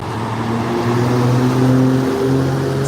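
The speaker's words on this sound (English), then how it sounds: "Check out this big old tanker truck" A big tanker truck rolls past on a road in Dalton, Georgia, its low engine drone loud and close over steady road rumble, swelling through the middle and easing slightly at the end, with no talking.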